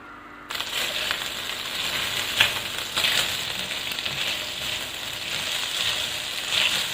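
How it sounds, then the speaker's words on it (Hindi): Marinated chicken shallow frying in oil in a pan, a steady bright sizzle that starts abruptly and carries on evenly, with occasional pops and spatters, close and fairly loud, no talking. "इसको हम शैलो फ्राई कर रहे हैं"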